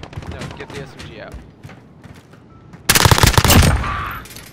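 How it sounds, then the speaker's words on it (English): Bursts of SMG fire in a Call of Duty match crack out in a loud rapid volley near the end, after quieter scattered shots and game noise earlier. "get the SMG out"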